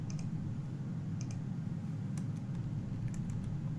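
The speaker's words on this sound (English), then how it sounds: "as I'm typing it" Soft clicks of typing on a computer keyboard come in short scattered bursts over a steady low hum, faint and close, with no talking.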